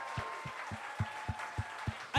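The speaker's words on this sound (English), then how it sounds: "So please give a round of applause, please." A small group claps in about eight spaced, distinct hits at a civic celebration day, sparse and fairly quiet rather than a full ovation.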